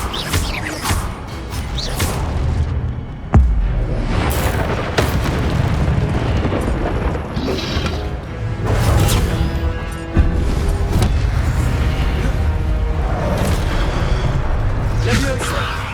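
Incendio fire spells blast repeatedly in Hogwarts Legacy, loud booming bursts and whooshes layered over continuous combat noise and game music, with a player's voice shouting spells throughout.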